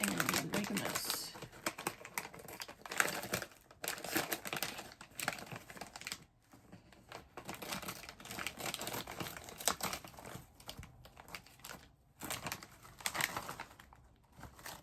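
Scissors cutting open a Korean snack bag amid crinkling plastic, a close run of small snips and rustles with clicky handling noises throughout and faint background sound.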